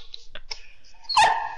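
A pet dog named Asher lets out a few short yips and a sharper bark close by, with faint whimpering between them, no talking.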